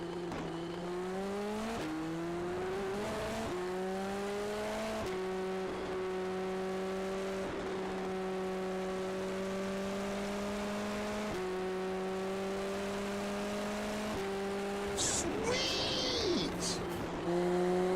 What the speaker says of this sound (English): I really love the sound of this car